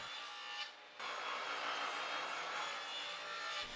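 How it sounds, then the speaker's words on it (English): Table saw ripping wooden pieces to width for mallet heads, a steady, fairly faint buzzing cut with a brief dip partway through and no talking. "First, I cut them to width using the table saw."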